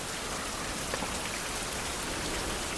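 Steady, dense rain falls in the video game Survival: Fountain of Youth, an even hiss of drops on surfaces that holds at a constant level throughout with no voices.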